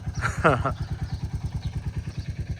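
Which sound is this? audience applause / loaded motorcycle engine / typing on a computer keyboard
loaded motorcycle engine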